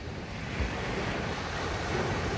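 Surf breaking on the beach at Gorleston on Sea, a steady, continuous roar of waves with wind noise buffeting the microphone, loud and unbroken throughout.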